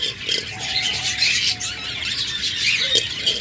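Pet budgerigars, cockatiels and lovebirds in a breeding setup chatter and squawk continuously, a busy mix of close chirps and calls with occasional sharper squawks.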